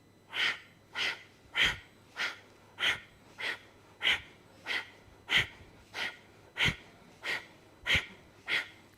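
Strong, forceful breaths in a yoga breath-work class, about a dozen sharp rhythmic exhales evenly spaced roughly every two-thirds of a second, close and loud with a faint steady hum beneath.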